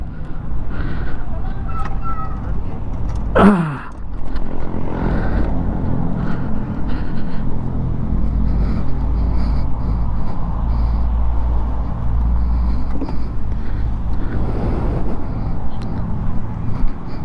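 Heavy road traffic in Dagupan City, heard as a dense, continuous low engine rumble with vehicles passing close by and a brief louder pass-by early on, steady throughout.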